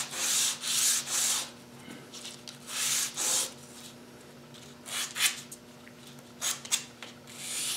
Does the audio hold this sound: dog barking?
no